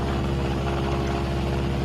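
Sustained droning engine rumble of a B-26 Marauder bomber flying on a single engine at about 4,000 feet, a steady loud hum with no pauses throughout.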